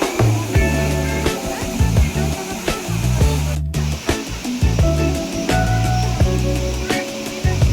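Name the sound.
Elephant Falls waterfall, Meghalaya, water falling over rocks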